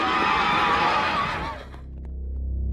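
Horse neighing sound effect, a loud, close whinny that rises and trails off over a couple of seconds, with low rumble continuing afterward.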